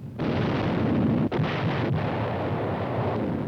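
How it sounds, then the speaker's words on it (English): Dense, roaring barrage of artillery fire and bombing over Shanghai during the 1937 Battle of China: a continuous loud rumble of blasts, briefly broken by a sharp gap, then resuming as a steady wall of war noise. "the first mass bombing from the air of a helpless civilian population"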